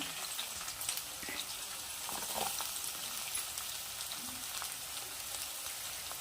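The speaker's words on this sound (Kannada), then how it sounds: "ಈಗ ಹಸಿಮೆಣ್ಸಿಕಾಯಿ ಈರುಳ್ಳಿ ಇದೆಲ್ಲ ಹಾಕ್ಕೊಳ್ಳೋಣ ಈರುಳ್ಳಿ ಎಲ್ಲ ಹಾಕ್ಕೊಳ್ತಿದ್ದೀನಿ" Green chillies and onions fry in oil with mustard and cumin seeds, a soft, steady crackling sizzle with faint scattered pops, fairly quiet and uninterrupted by talk.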